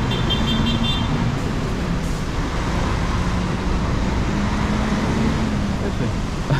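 Cars queued at a traffic signal on a rainy street in Recife, Brazil, with a constant roar of idling and passing traffic, a brief horn toot early on, and voices talking over the noise.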